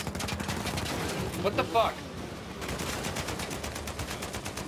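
Gunfire in the video game Uncharted 4, a fast, steady rattle of automatic shots through most of the moment, with a player talking briefly over it midway.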